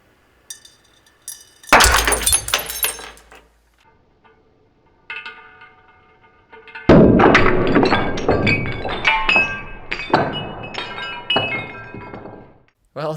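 A glass beer bottle bursts when struck by a handheld laser in a workshop, giving a sharp loud crack with tinkling shards, then a second burst with rattling, clinking glass debris that continues for several seconds.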